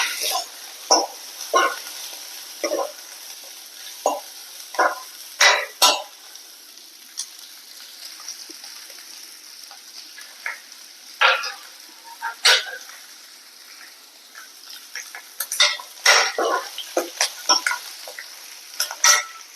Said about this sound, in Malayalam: നമുക്കിതിലേക്ക് പച്ചമുളക് കൊടുക്കുക കറിവേപ്പില ഇട്ട് കൊടുക്കുക